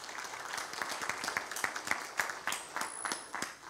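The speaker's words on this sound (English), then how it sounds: "Let's just give the Lord a hand clap" Church congregation clapping hands in praise, a soft scattered patter of many hands with some distinct sharper claps, fairly quiet and slightly distant, with a faint voice underneath.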